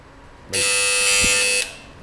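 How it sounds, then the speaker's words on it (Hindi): A quiz show buzzer on a Ramadan game broadcast blares one loud, sustained electronic tone for about a second after a quiet lead-in, then cuts off abruptly. "दोनों ने एक साथ बजर प्रेस किया है"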